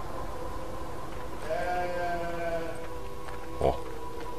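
Sheep bleat inside a sheepfold in the game Beyond: Two Souls, one drawn-out wavering bleat rising over a steady ambient hum, then a short sharper call near the end.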